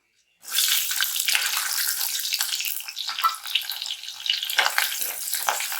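Onions tipped into fenugreek seeds frying in a clay pot for a village-style dried-fish curry set off a sudden, loud, steady sizzle after a brief silence, crackling on evenly with no voices.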